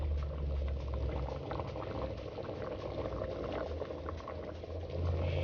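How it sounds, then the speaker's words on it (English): A pot of spinach potato soup at a rolling boil, a continuous close bubbling and sizzling with no voices over it. "You see how that soup is sizzling and boiling and looking delicious by itself."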